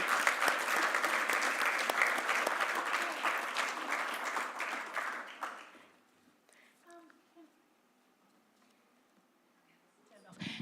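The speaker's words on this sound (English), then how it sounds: "we've got to give them another round of applause" An audience gives a loud, full round of applause that lasts about five seconds and then fades away, leaving a quiet room with faint sounds and talk.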